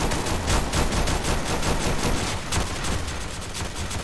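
Gunfire rings out in a zombie shooter video game: dense, rapid bursts of shots run almost continuously at steady loudness, with no pauses.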